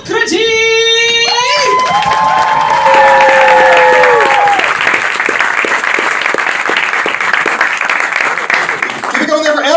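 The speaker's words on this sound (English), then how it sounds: "Please welcome to the stage, the big round of applause, Socrates!" A comedy club crowd applauds and cheers as a comedian takes the stage. Loud, sustained clapping runs for several seconds with whoops and cheers mixed in. Voices rise at the start over an intro tune, and talk returns near the end.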